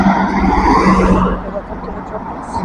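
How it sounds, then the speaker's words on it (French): A car passes close by, its engine and tire roar swelling and then fading, with people talking over it. "On va attendre que la voiture passe"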